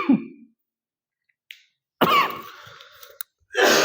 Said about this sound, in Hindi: खांसी मुझे क्यों आ रही है, गले में खराश की वजह से हो सकता है